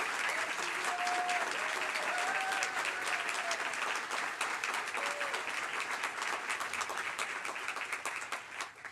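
A debate audience gives sustained applause while two U.S. House candidates for Ohio's 16th District are welcomed, a dense, even wash of clapping that holds for several seconds before thinning slightly.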